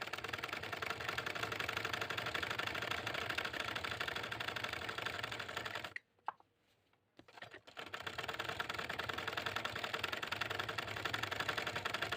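Sewing machine stitching a salwar hem in a rapid, steady mechanical run of needle strokes, close and loud, stopping for about two seconds midway before resuming.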